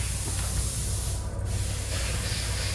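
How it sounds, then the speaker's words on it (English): An air blower runs in a mechanic's shop, giving a steady, loud rushing hiss that barely changes and holds a low hum underneath, with no talk. "he's got the air blower going on"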